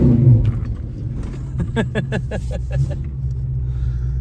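A Mazda truck fitted with line locks revs for a burnout, its engine rumbling low before a run of sharp, rhythmic roaring bursts that ease back into a steady idle rumble.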